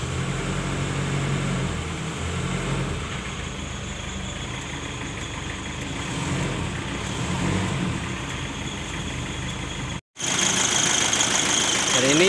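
A 1992 Daihatsu Taft GT F70 idles with its air conditioning switched on, a close, steady, rumbling hum with a slight knock. The hum breaks off abruptly for a moment near the end, then resumes.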